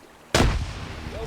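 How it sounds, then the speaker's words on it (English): A flashbang grenade bursts in a video game with a sudden loud, close blast that decays into a lingering ringing roar, with no voices. "gonna flashbang him to death."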